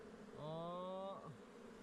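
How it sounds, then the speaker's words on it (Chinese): A single ground bee buzzing close by for about a second, a clear faint drone that rises and then cuts off, near a wild hillside nest, with quiet background. "身边环绕着土蜂"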